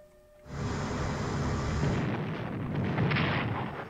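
Artillery bombardment in the Strategic Command 1904 war game: after a brief quiet start, a loud, sustained rumbling barrage of booming blasts rolls on, with deep low roar and crackling bursts layered together, no speech.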